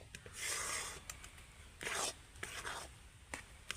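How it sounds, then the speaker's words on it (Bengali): Thick mango puree being stirred in a pan as it cooks down and darkens, giving soft scraping and rubbing strokes in irregular bursts, fairly close and quiet, with no talking. "এইভাবে অনবরত কিন্তু নাড়তে হবে"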